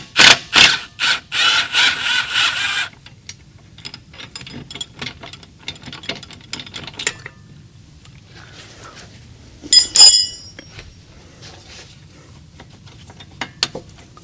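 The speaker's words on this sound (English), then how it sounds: "we are essentially going to be tightening with the gun," Impact gun working a strut nut on a 2006-2012 Toyota RAV4 during front strut replacement, a loud rapid hammering burst in the first few seconds, followed by quieter scattered clicks and ratcheting, with another short burst later.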